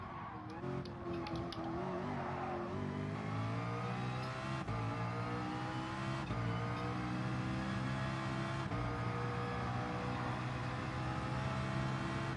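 A McLaren race car's engine roars continuously in Gran Turismo Sport, holding a loud sustained drone with rising pitch sweeps as it accelerates through gears.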